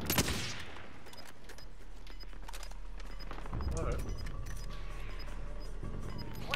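First-person shooter gunfire: a sharp close burst at the start, then scattered distant shots and clatter under quiet voices and game sounds.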